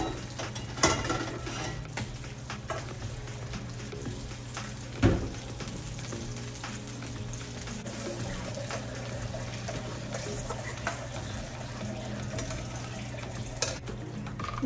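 Egg gravy for egg do pyaza being sautéed and stirred in a pan, a soft continuous sizzle with occasional clinks of a utensil against the pan and a few sharper knocks, close by with no talk.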